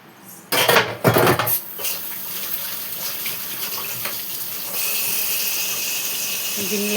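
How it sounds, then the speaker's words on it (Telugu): Dishes, pots and pans are washed in a kitchen, loud metallic clatters and clanks up front before running water settles into a steady stream, with a few lighter knocks later. "గిన్నెలు కడిగేస్తుంది."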